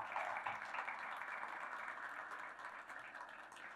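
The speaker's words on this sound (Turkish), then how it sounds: "Çok teşekkür ediyorum güzel alkışlarınız için" A conference audience at a tourism and gastronomy summit claps in a hall. The applause is soft and distant, a steady patter that slowly fades toward the end.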